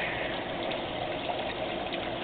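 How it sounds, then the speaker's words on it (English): Water pours steadily into an aquaponic tank fed by a submersible pump, a dense continuous gushing and splashing that stays close and even throughout, with no voices. "got a lot of water flow now, if you can tell"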